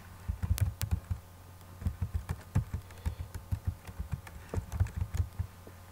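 A username being typed on a computer keyboard, heard as bursts of close, crisp key clicks in quick uneven runs with short pauses between them.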